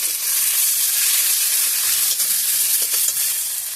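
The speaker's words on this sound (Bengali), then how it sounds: "বেশ কিছুটা পেঁয়াজ কুচি পুরনে দিয়ে দিলাম।" Chopped onion fries in a Bengali muri ghonto filling, a loud, dense sizzle that crackles steadily with a few light stirring knocks.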